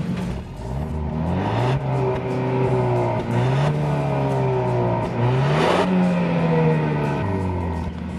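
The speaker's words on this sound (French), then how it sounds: "le son échappement est assez quelconque puisqu'on entend juste un souffle" A Fiat 500X Sport with a 1.3-litre turbo 150 hp engine accelerates on a road, its engine and exhaust rising in pitch through several gears with brief dips at each shift, loud and close inside the car.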